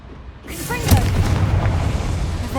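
A booming fire-spell blast from the Confringo charm in the video game Hogwarts Legacy, a loud sudden burst that rolls into a sustained rumbling roar, with a voice calling out over the start.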